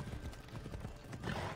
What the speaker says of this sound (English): I have a hell horse